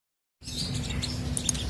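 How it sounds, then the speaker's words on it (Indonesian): Lovebird chicks chirping in a steady run of soft, high cheeps close by, with a low background hum and no talking. "langsung aja kita lihat anakan burungnya"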